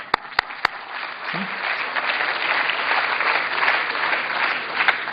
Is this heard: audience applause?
yes